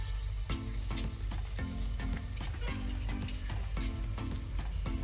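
Egg roe and browned onions fry in a pan for a Telugu egg curry, a steady loud sizzle broken by repeated stirring scrapes, with no voices.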